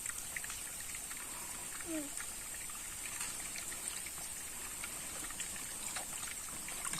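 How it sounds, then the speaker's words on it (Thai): Water flowing at a small waterfall beside a farm, a faint continuous hiss and trickle with distant voices in the background. "มาเล่นน้ำตกครับ"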